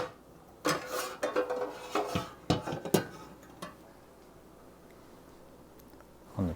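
Metal clinks and scrapes as the snuffer is pulled out of a Vesta stove, a cluster of close, bright clanks and rattles lasting a few seconds, then quiet with one last knock.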